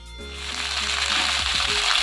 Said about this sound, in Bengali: এদিকে ফুলকপিটা ভাজছি